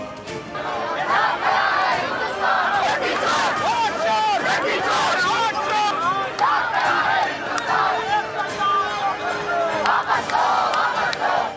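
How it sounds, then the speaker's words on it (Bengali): Protesters, opposition MPs among them, chant slogans at a Delhi police barricade: a loud, dense crowd of voices shouting in rhythmic bursts that continue without a break. "সেখানে স্লোগান দিতে শুরু করেন টিম ইন্ডিয়ার নেতারা"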